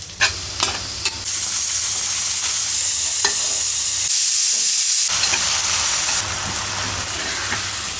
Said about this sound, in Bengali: কিমাটা রান্না করে রাখলে অনেক কিছু ঝটফট করে দেওয়া যায়